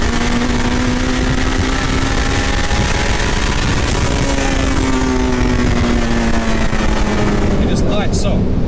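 A Honda-swapped 350BHP Mini roars loud and close, its engine holding a harsh, sustained rev with a rising pitch sweep midway and a sharp burst near the end, all without pause.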